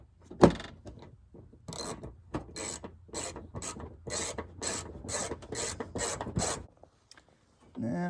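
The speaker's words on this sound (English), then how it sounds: "let's run the other headlight bolt in the side here" A ratchet tightens a headlight bolt on a 2003 Honda Element: an opening clank, then about a dozen quick rasping clicks in short even strokes, close and clear. The sound stops and a brief rustle follows.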